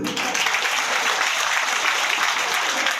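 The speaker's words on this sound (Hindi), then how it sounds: "तालियां थोड़ी कम बजी।" Steady applause from an audience at a ceremony flagging off extra runs of a MEMU train in Guna, a dense, even clapping wash that holds at full level for about three seconds.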